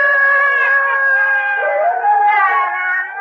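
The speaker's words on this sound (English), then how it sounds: "And when one howls, they all howl" Crossbreed hounds howl together in a sustained, wavering chorus, loud and close, the pitches sliding and overlapping for several seconds before tapering off.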